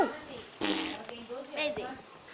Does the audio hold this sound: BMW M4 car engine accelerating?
no